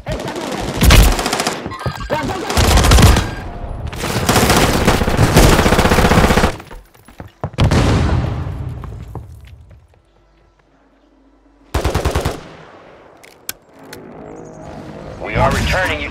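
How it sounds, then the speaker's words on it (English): Machine gun fire in Call of Duty Warzone comes in loud close bursts of rapid shots, then a quiet lull and a sharp short burst near the end, with a player talking between volleys. "I'm taking effective fire"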